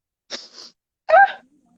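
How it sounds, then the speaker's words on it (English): A single close, loud human sneeze: a sharp breathy intake followed by a voiced, explosive burst, then quiet. "I have to sneeze."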